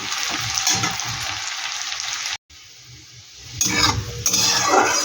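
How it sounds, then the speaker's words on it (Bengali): Thinly sliced onions fry in oil in a pan, a bright close sizzle with stirring scrapes, briefly cut off by a short gap, then returning louder with spoon clatter. "এই পেঁয়াজটা এবার একটু আমি লাল লাল করে ভেজে নেব।"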